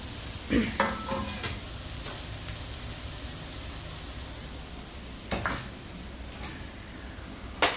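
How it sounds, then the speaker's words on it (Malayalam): Garlic and ginger are tipped into a pan of softened onions, giving a steady low sizzle under intermittent scraping stir strokes and a few clinks of a spoon on the pan, with no talk. "ഇതിലേക്ക് നമുക്ക് വെളുത്തുള്ളിയുടെയും ഇഞ്ചിയുടെയും ഇട്ട് കൊടുക്കാം."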